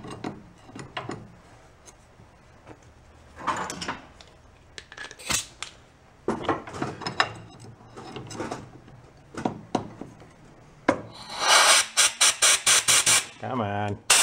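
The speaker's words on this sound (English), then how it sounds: "We'll try a little air hammer in the center." An air hammer works on a salvaged old John Deere part, firing a rapid string of sharp metallic bursts near the end, after scattered clanks and scraping from shop handling.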